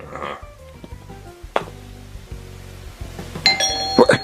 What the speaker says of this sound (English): gets interrupted when the doorbell rings